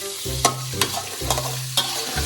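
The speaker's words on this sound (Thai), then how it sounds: "ใส่หมูลงไปแล้ว ผัดคลุกให้หมูเริ่มสุกนะครับ" Pork stir-fried in a pan over medium heat, with a spatula scraping and tossing in a few distinct strokes over a continuous sizzle, close and fairly loud.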